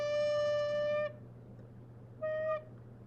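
A recorder sounds a sustained D, a steady tone that lasts about a second before a shorter repeat of the same note. Both notes are clear and close, with quiet pauses and no voice.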